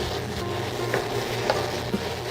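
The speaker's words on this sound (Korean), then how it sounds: "파를 넣기 전에 양파를 넣어서 이렇게 볶아주시고" Onions stir-fry in a hot pan for kimchi fried rice, giving a steady close sizzle with a few soft spatula scrapes.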